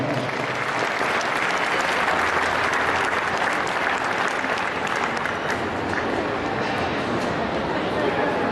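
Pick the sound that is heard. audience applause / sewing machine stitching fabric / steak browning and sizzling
audience applause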